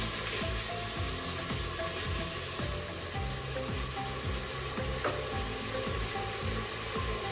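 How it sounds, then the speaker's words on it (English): Bacon frying in a pan for spaghetti carbonara while being stirred and turned, a steady sizzle under repeated scraping, clattering strokes at a close, even level throughout. "Now we want to keep stirring the bacon to make sure that as we cut it previously in one piece, we're separating the slices and we're constantly turning it over"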